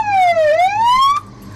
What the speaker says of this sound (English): siren one more time